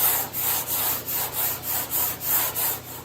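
Hand sanding with 80 grit sandpaper on the body panel of a 1965 Chevy C10 truck: about nine even, rhythmic back-and-forth scrubbing strokes, loud and close, with no talking.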